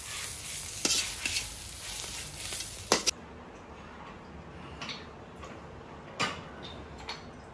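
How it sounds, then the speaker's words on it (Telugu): Gongura leaves fry in a little oil with a soft sizzle and stirring scrapes, loud for the first three seconds and then fading to a quiet hiss with occasional utensil clicks. "ఇలాగా కొంచెం కొంచెం నూనె వేసుకుంటే కొద్దిగా వేపుకుంటామండి గోంగూర."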